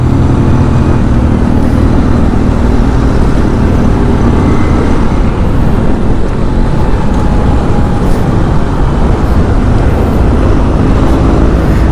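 Bajaj CT100 motorcycle riding through commuter road traffic, with a loud, steady engine and road roar and dense surrounding vehicle noise throughout, close and continuous with no talk.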